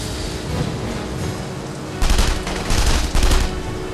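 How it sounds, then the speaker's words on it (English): Bursts of gunfire in The Saboteur video game, a steady background of game noise giving way after two seconds to several loud, rapid volleys that cut in and out in quick succession. "I'm getting shot at."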